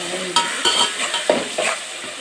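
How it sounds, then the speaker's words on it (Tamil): Spoon stirring coriander powder into a pot of fish curry, several soft scraping strokes in quick succession close by, over a faint background hiss. "மல்லித்தூள் போட்டு நல்லா ஒரு கலவை"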